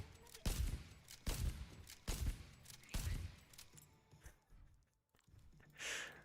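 Several heavy, separated gunshot bursts in a game as a dinosaur is shot, loud booming reports spaced about a second apart that fade into quieter background noise near the end.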